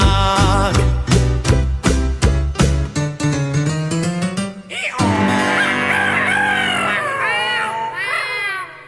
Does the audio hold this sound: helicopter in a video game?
no